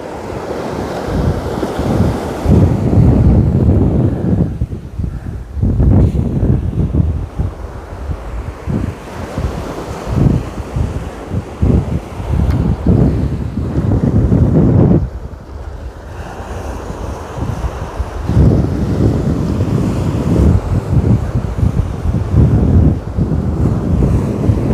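Strong wind buffets the microphone on an open beach during surf fishing, a loud steady roar with gusting swells and crashing waves underneath, no voices.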